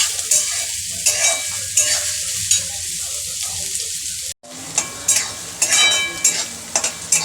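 Onions browning in a pan send out a bright, busy sizzle with repeated stirring scrapes. The sound drops out for an instant, then comes back just as loud and close, with clinks from the spatula on the pan.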